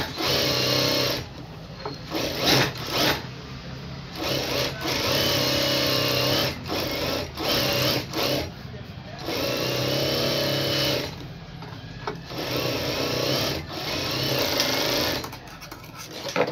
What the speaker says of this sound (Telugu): ఇప్పుడు దీని చుట్టూ కూడా మనము కుట్టు అనేది వేసేసుకోవాలి.